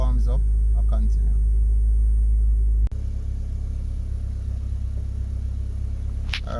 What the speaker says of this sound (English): Alright, so the car is warmed up now,